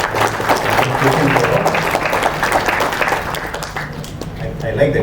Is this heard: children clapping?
yes